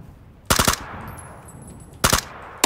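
Gunfire in the PUBG battle royale video game: two short bursts of rapid automatic shots, the first early and the second about a second and a half later, loud and close, with a faint high electronic tone in between.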